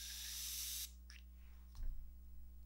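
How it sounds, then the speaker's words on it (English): A facial mist spray bottle of flower water gives a single loud, close hiss lasting under a second, followed by quiet handling noises. "Y'all, that's one spray."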